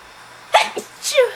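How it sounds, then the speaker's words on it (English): A close, loud sneeze, set off by burning sage, with a sharp intake and burst, followed by a brief vocal sound. "I sneeze every time it happens, every time I sage."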